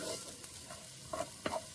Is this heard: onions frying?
yes